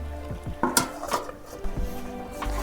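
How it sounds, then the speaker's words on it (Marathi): Wild foraged greens cook in a covered pan of hot water, with a steady sizzle and bubbling underneath and several sharp metallic clanks and scrapes of utensil against the pan spread across the moment. "तर बघा आता भाजी शिजते आता झाकण ठेवते मी"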